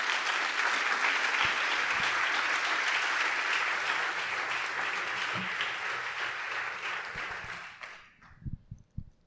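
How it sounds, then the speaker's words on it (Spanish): Sustained applause from a large church congregation during a sermon, steady and full for several seconds, then fading out into a few scattered claps. "Denle un aplauso al Señor en esta mañana"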